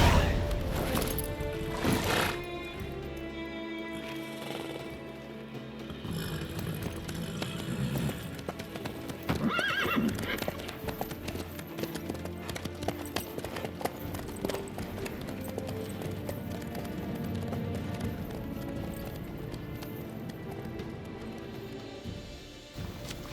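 A horse gallops in the video game The Witcher 3, with steady rapid hoofbeats over game ambience and music, moderately loud, with a few thuds along the way.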